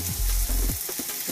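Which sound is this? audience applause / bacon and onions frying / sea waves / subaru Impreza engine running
bacon and onions frying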